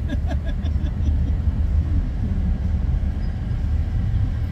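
A heavy, steady low rumble of an MRT rail train rolling past nearby along EDSA, continuous for several seconds with faint rhythmic clatter near the start.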